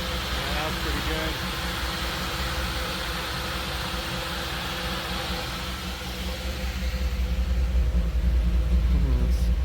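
A Jeep YJ rock crawler engine idling at about 1,000 rpm, slightly rough, heard as a steady low rumble and drone that grows a little louder near the end, with no voices over it.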